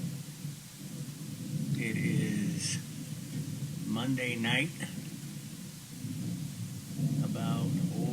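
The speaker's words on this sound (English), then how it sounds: "Line of thunderstorms coming in, and it's been like this for about a half an hour" Night thunderstorm line rolling in outside Pioneer, Ohio, a steady low rumble and rain wash filling the background throughout, with someone talking over it in several bursts.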